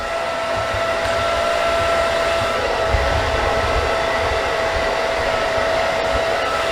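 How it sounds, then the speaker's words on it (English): A blow dryer roars steadily and continuously while drying a client's hair after an A-line haircut in a salon, loud and close with a constant high whine and no pauses. "always make sure that you're pointing the blow dryer away from that client."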